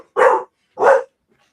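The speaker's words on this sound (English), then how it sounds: "That was my dog. Barking in Scottish." A dog barks twice, loud and close, with two evenly spaced barks separated by a short silence and nothing else around them.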